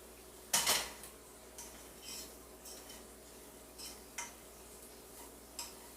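A spoon stirs a green bean casserole mixture in a dish: one sharp scraping clink near the start, then a handful of softer, sparse scrapes and taps spread out at irregular intervals, fairly quiet and close, with no talking.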